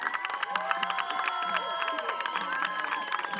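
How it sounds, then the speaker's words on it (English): A crowd cheers and shouts at a junior boys baseball championship, with voices overlapping in a steady, lively din and some scattered clapping blended in. "So everybody, give yourself a round of applause."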